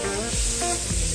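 Leeks, thyme and garlic drop into a hot pan and burst into a loud, close, continuous sizzle with a few quick stirring scrapes.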